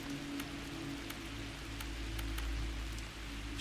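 Rain falls in the survival game The Tribe Must Survive, a steady soft patter with occasional sharper drips over a low hum, fairly quiet and alone.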